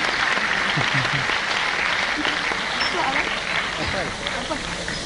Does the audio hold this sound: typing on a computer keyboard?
no